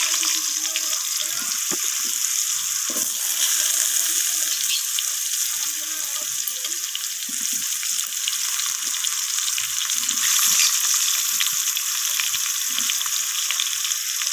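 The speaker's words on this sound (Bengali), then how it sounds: "এরপর আমি ওই একই তেলের মধ্যে কেটে রাখা আলুগুলোকে লাল লাল করে ভেজে নেব।" Cut potatoes sizzle in hot oil as they brown, a loud, steady crackling fry with occasional soft knocks and stirring underneath.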